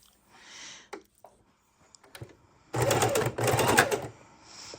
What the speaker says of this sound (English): we're going to do a good 1/4 inch seam all the way around on the sewing machine